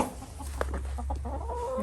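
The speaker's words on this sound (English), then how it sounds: "Here's the chickens." Chickens in a coop in Alaska in January cluck softly in a few short bursts over a steady low hum, with no talking.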